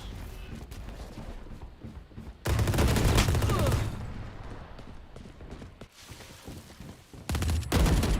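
Rapid gunfire bursts from Valorant gameplay, loud dense volleys that come in clusters, with a sustained barrage near the middle and another burst at the end, over a continuous game soundscape.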